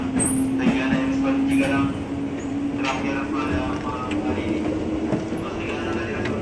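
A Jakarta commuter line train runs near midnight with a steady interior rumble, a faint sustained hum and light rail clatter, while a person talks quietly over the ride.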